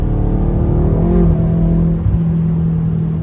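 BMW M5 F10 engine accelerating under light throttle, a steady loud drone that rises slightly in pitch, heard from inside the car with road and wind noise and no talking.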